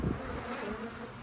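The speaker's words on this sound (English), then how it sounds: "It's got a lot of bees inside, so I got the cold air on." Many honeybees buzzing inside a running truck cab with the air conditioning on, a close dense hum with no talk.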